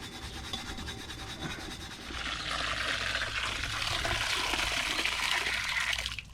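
Continuous rubbing and scrubbing as a small pot used as a pond fountain is cleaned, a steady rasping wash of friction that grows slightly louder and brighter partway through, close by with no talk.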